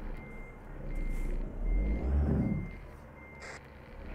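A truck in a convoy video game reverses, its steady high beeps repeating under a loud rumbling engine, with a hiss of air brakes.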